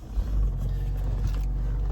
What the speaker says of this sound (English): So as you can hear there, car started up nice and well.